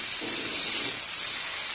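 Carrot, beans and capsicum sauté in a hot pan, giving off a continuous soft sizzling hiss, fairly quiet and steady throughout.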